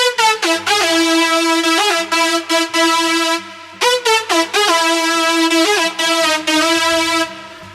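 A bright, buzzy Harmor synth lead plays a future house melody of sustained and repeated notes with pitch slides, over a soft low accompaniment, made in FL Studio.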